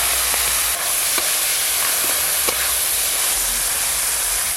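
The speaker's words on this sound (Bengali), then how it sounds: "নুন হলুদ মাখানো চিংড়ি মাছগুলো কড়াতে দিয়ে দেব।" Salted, turmeric-coated prawns fry in a wok of hot oil, a loud, dense, continuous sizzle with faint occasional ticks of stirring underneath, close and steady throughout with no talking.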